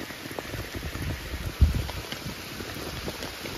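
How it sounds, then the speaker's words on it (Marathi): Heavy rain in the Konkan countryside, a steady dense patter of drops hissing continuously with one brief thump partway through and no talking. "आणि पाऊस पण खूप आहे."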